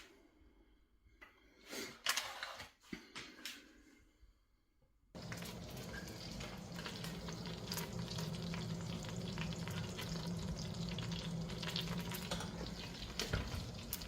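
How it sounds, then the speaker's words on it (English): Margarine melts and sizzles in a frying pan while curry sauce for meatballs is being made. A few quiet clicks come first, then a steady, close frying hiss starts and runs unbroken to the end. "So when margarine starts to melt, already like this, half melted"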